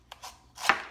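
A knife cuts into a spaghetti squash on a board, giving a few quick, faint chopping taps and then one firmer cut, close and with no one speaking.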